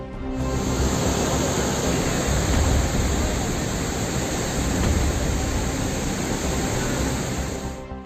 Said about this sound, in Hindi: रास्ते में पानी इस तरह से बह रहा है कि भारी भरकम ट्रक भी आगे बढ़ने में सहमे नजर आ रहे हैं।